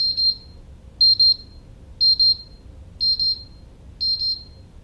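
A kitchen timer beeps five times in a steady once-per-second rhythm, each beep a short high double chirp, loud and clear over a faint low room hum with no talking.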